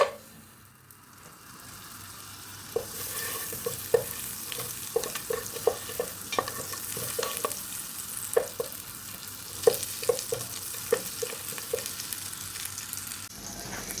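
Butter melting in a hot pan at the start of a meat sauce, giving a steady soft sizzle with scattered crackles and pops and occasional utensil taps, close by, with no talking.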